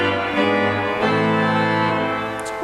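The great division of a pipe organ plays with all its stops drawn except the strings. Full, sustained chords shift slowly and steadily, loud and rich with no talking.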